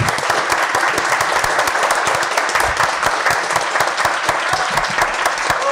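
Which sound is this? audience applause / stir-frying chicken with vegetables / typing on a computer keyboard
audience applause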